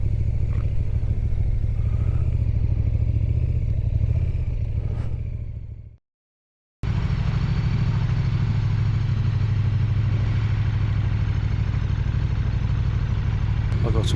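A big KTM motorcycle is ridden on Scotland's A9 road, its engine a steady low drone mixed with wind rumble. The sound cuts out for a moment midway, then carries on unchanged.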